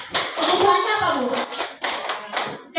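Scattered applause breaks out among a small audience at a school training session, brief clusters of claps mixed with people talking over them.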